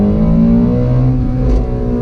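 A 2020 Ford Shelby GT500 accelerates with a loud, steady engine roar, a thick low rumble with layered harmonics holding close and continuous throughout, no voices over it.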